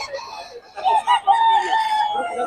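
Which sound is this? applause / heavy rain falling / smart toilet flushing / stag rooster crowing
stag rooster crowing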